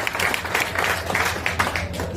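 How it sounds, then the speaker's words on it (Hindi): An audience at a Jan Suraaj Party gathering claps in a steady patter of applause, moderately loud and fairly even, with crowd murmur underneath. "एक बार जोरदार ताली आप अपने इस प्रयास के लिए लगा दीजिए"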